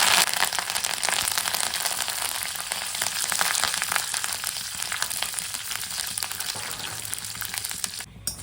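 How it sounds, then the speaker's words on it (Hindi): Curry leaves spluttering and frying in hot oil, a dense, continuous crackling sizzle that stays loud and close throughout, with no voices, briefly dipping near the end. "अब हमारे जो करी लीव्स है वो डालेंगे। ये बहुत उड़ते हैं, डालिए और तुरंत पीछे सरक जाइए।"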